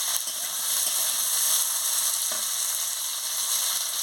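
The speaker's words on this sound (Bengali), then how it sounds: "আলু কুচিটা দিয়ে দিচ্ছি, কাঁচা লঙ্কাটা দিয়ে দিচ্ছি, দিয়ে ভালো করে নাড়িয়ে নিচ্ছি।" Chopped potato and green chili fry in a pan with a loud, continuous sizzle, a spatula stirring through them with one clear scrape partway.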